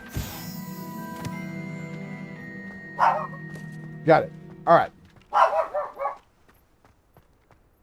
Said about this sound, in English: Sorry if you hear the dog barking.